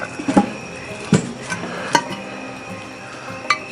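A metal lid clinks onto a cast-iron Dutch oven over a charcoal fire at a campsite, a few sharp clanks and taps spread out over a few seconds against quiet outdoor background.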